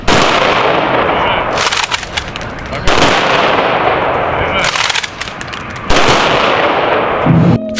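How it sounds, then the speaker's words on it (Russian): Several loud ceremonial rifle salute volleys crack out one after another at intervals of a second or so, each followed by a sharp echo, outdoors at a memorial ceremony in Magadan with crowd noise in between. "Вслед за ней прозвучал оружейный салют."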